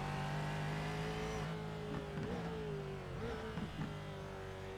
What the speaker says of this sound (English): Grabbing the downshifts and trying to make it happen.